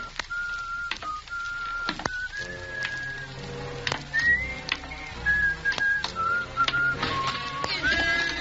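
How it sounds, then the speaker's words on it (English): A man whistles a wavering, tuneful phrase in a 1944 Suspense radio drama, the clear whistle running nearly continuously over soft background noise and a few faint knocks. "You still remember my whistle"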